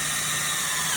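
A power drill running steadily and close, boring a hole beside an existing bolt hole while an extension pot is assembled. A continuous whine with no pauses fills the second-long burst.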